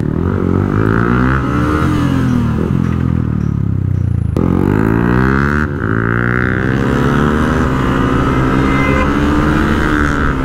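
A motorcycle engine and exhaust drone loudly and continuously up close during a group ride, the pitch rising and falling with throttle changes and no talk over it.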